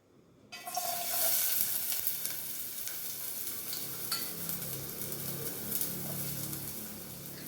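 Chopped onion drops into one to two spoons of hot oil as tempering for a prawn curry, bursting into a loud, close, steady sizzle that continues unbroken with faint stirring.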